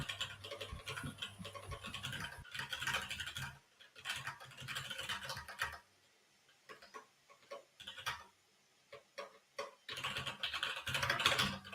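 Typing notes on a computer keyboard: quick, close clicking keystrokes in irregular bursts with short pauses, quiet but clear and alone.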